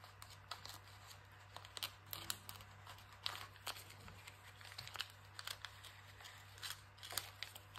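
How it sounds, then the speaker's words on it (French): Scissors give a series of faint, close snips and crinkles while trimming excess double-sided tape from a handmade card. The light irregular cuts sit over a steady low electrical hum, with no talking. "on va pouvoir couper la partie supplémentaire qui ne sert à rien"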